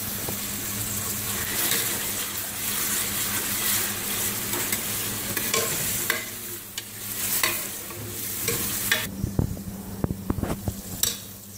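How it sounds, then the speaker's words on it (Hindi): Taro root (arbi) frying in ghee for an arvi gosht curry gives a steady sizzle with stirring scrapes and occasional sharp clinks of a spoon against the pan toward the end. "फिर इसको मैं घी में भून लूँ।"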